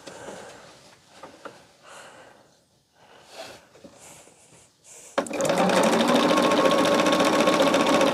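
Fabric pieces being fed through a sewing machine; after a few seconds of quiet handling and soft breathing, the machine starts up with a loud, steady, rapid stitching whir close by.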